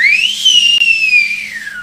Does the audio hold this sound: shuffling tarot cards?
no